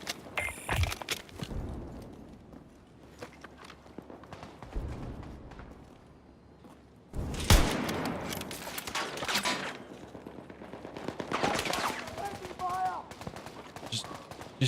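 Sniper rifle fire in a shooter video game, sharp loud shots scattered through the clip with gaps between them, a few rapid bursts, over a busy game background; no one speaks.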